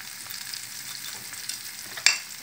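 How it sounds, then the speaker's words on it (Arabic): Eggplant frying in a pan with herbs, garlic, lemon and spices being stirred, a soft, close sizzle with a sharper scrape of the spoon near the end. "وحرك جميع المكونات"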